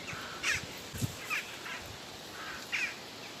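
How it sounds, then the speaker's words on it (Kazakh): Several crows caw outdoors in a village yard, harsh calls coming in short bursts spread across the moment, moderately near against a quiet background. "Қарғалар шығып кетті."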